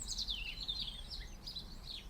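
A faint, high, warbling robin song trills continuously at a distance in a garden in January, thin and fluttering over low background rumble.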